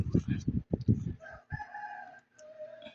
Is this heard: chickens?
yes